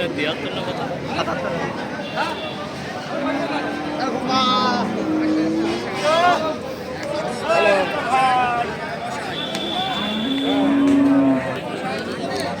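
Friesian cows low several times at the Seven Mile cattle market, long drawn-out moos rising over a busy crowd of people talking and bargaining nearby.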